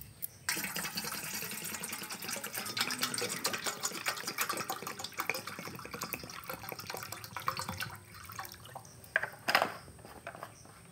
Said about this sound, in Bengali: আমগুলোকে আমি জল দিয়ে ধুয়ে নিচ্ছি